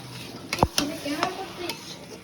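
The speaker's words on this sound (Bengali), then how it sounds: "একটু নাড়িয়ে নিলাম" A few scraping stir strokes of a spoon through mutton curry in a pan as chili and turmeric powder are mixed in, with a faint sizzle between the strokes and no talking.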